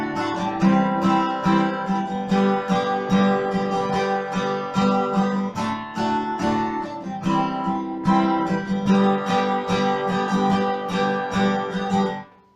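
Acoustic guitar strumming a chord pattern in a basic four-count rhythm, dense steady strokes, close and loud, ending with a quick fade.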